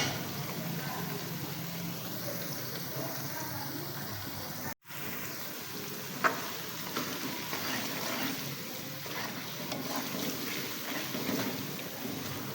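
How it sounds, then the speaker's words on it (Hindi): Garlic-ginger paste frying in a pan for Pakistani-style aloo palak gosht, a steady, fairly quiet sizzle and hiss running throughout with a short dropout partway and one sharp clink. "लहसुन अदरक के पेस्ट को हमने अच्छे से भून लिया"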